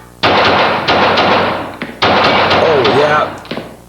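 Rapid assault rifle fire in a video game, two long loud bursts of dense automatic shots with a brief gap between them, close and sharp, with faint talk underneath.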